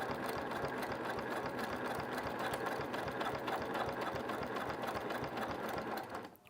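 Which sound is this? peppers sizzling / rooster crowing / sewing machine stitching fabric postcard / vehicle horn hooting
sewing machine stitching fabric postcard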